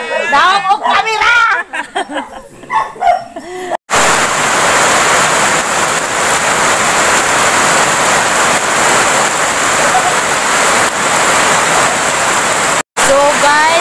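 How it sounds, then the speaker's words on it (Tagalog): Very heavy rain pours in a loud, steady roar during flooding, filling most of the stretch without letup. People chatter and laugh before it starts, and a brief voice returns at the very end. "Grabe sobrang lakas talaga ng ulan"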